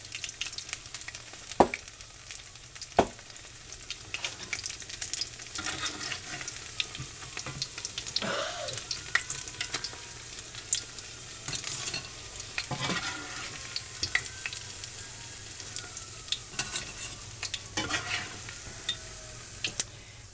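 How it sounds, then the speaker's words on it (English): Steady crackling sizzle of fish fritters frying in a pan, with occasional clicks and scrapes of utensils, close up and continuous, no voices. "we'll just keep frying these up"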